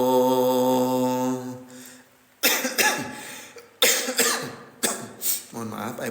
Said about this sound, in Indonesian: saya agak batuk-batuk dan pilek ya